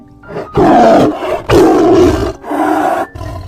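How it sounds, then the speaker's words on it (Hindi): A tiger roars loudly and close by in three long, powerful bursts separated by short breaths, with a growl at the end and no talk. "वहां आकर वो टाइगर दहाड़ते हैं"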